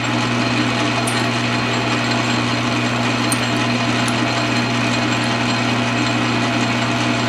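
A power drill with a letter Q bit bores about 1.5 inches into a ghost trap prop, giving a loud, continuous, steady whir close by with no break and no talk.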